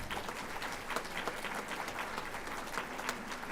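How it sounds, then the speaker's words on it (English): An audience at a teacher of the year ceremony claps steadily and densely throughout, with no voices above the applause. "Give yourselves a round of applause for that."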